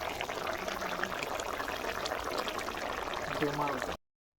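Water pours steadily into a pot of catfish curry with potatoes, a close, continuous gush and splash that ends abruptly.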